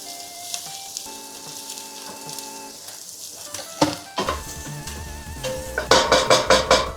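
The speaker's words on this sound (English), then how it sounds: "first we're gonna do put down some oil. We got our onions and garlic." Onions and garlic going into oil in a pot, a soft crackle over clinking utensils that swells near the end into a run of louder, rhythmic sizzling bursts as they are stirred.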